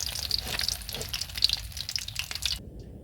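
Eggs fry in a pan with a dense, steady sizzle and some faint scraping, loud and close throughout, cutting off abruptly just before the end.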